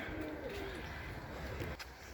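Young homing pigeons in training cooing softly in the background, low and faint against a steady ambient hum, with a few brief murmured calls.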